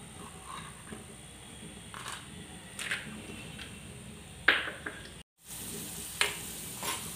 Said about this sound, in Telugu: తర్వాత మనం శనగతనాలు వేయించుకోవాలి